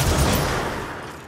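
A sniper rifle fires in the video game Control: one loud, close, broadband shot that trails off into a rolling decay over just over a second, with no talking.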